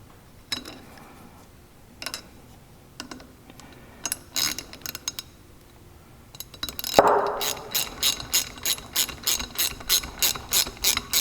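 Locking nuts with Loctite are tightened on a Can-Am X3 clutch, heard as scattered clicks at first and then a long, steady run of close ratchet clicks.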